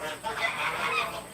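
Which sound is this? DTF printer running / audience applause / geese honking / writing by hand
geese honking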